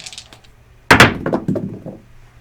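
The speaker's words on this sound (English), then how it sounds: "All right, dice are going back out." Craps dice are tossed onto a table, landing with one sharp clatter followed by a few quieter rattles and bounces as they settle.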